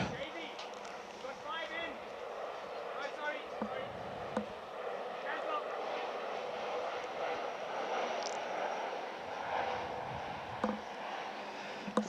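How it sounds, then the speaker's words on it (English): Finnair airliner passing overhead during a cricket match, a faint, distant steady jet rumble under continuous commentary and crowd background. "There's another Finnair goes overhead"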